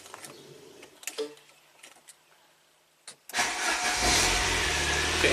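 A 1993 Saab 9000 CSE Turbo with a high idle cranks briefly after quiet clicks and ticks, then fires up abruptly and settles into a loud, steady running roar.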